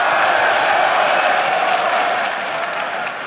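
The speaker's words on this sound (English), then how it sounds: "as the crowd is chanting Froggen" A large esports crowd at a League of Legends EU LCS 2014 summer match cheers and chants for Froggen, a loud, steady roar of many voices that slowly fades over a few seconds.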